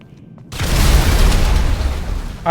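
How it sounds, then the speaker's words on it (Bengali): In GTA V, a motorbike explodes as a single loud boom that starts abruptly after a half-second of quiet and then rolls on as a sustained deep roar. "আরে বাইক ব্লাস্ট হয়ে গেছে এর ভিতরেই"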